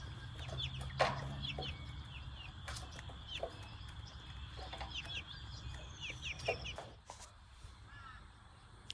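Young chicks cheep in quick high bursts while feeding around a standing rooster, with soft clucks and occasional pecking knocks in a quiet outdoor setting.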